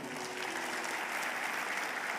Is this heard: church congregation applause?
yes